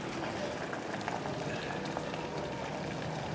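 A pot of potatoes simmers on a hotel room stove in Thailand, a soft continuous bubbling and fizzing heard up close and fairly quiet, with no talk.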